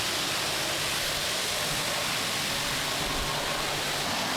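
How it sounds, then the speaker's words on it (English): Steady rushing water pours and splashes continuously over a Mercedes being rinsed from the top, a dense hiss with no pauses and no voices. "Full rinse from the top, water cascading down the whole body."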